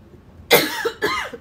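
A woman coughs twice in quick succession, the two sharp, close bursts standing out loud and clear against a quiet room, with no talking.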